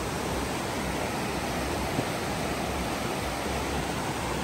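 Hill stream water rushes against rocks in a jungle setting, a loud, unbroken broadband roar that holds steady throughout with no talk.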